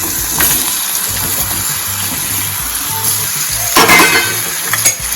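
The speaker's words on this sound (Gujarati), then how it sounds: "આપણા મરચાંને થોડા સાંકળવા દઈશું મૂળા એડ કરી દઈશું" Green chillies and radish fry in hot oil in a pan for a Gujarati radish-chilli sambharo, a steady close sizzle with light stirring and occasional louder spatters.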